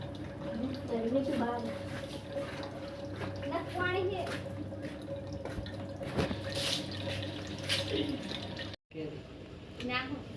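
Oil is poured from a broken, leaking tin container into another tin, giving a wet, trickling and dripping sound under near, steady talk that cuts out briefly near the end.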